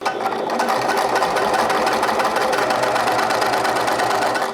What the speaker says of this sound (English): what I'm gonna do next is stitch straight down my sides, both again with a 1 centimeter seam allowance.